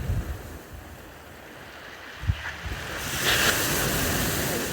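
Surf breaking on the shingle at Chesil Cove in Dorset, a steady wash of waves with wind noise, swelling louder in the last seconds as a wave rushes up the stones.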